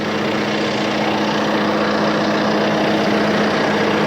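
A tractor engine runs steadily before chisel plowing a field, a loud, close, unbroken low diesel drone with a constant hum and no change in pace.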